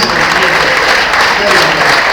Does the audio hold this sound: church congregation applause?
yes